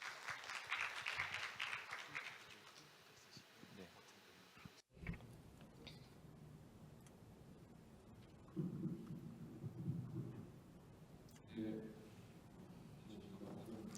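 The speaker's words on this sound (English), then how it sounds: "Please welcome Mr. Chung with a warm round of applause." Conference audience clapping to welcome a speaker, a fairly loud wash of applause at the start that fades into quieter room noise with brief voices afterward.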